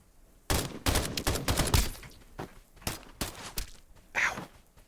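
Video game gunfire rings out in a firefight, sharp shots arriving in irregular bursts and single cracks at moderate loudness, with a few gaps between volleys and no talking.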